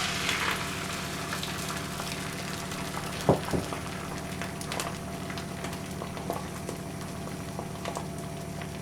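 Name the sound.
egg omelette cooking in an oiled pan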